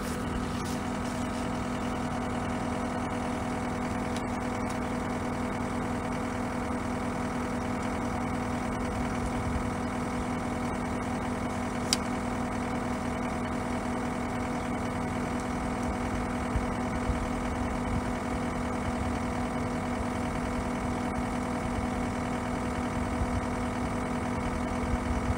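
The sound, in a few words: tractor engine idling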